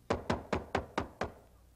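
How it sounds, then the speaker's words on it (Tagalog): Six firm knocks strike a door in a steady, evenly spaced rhythm, close and sharp, with nothing else heard. "May kumakatok!"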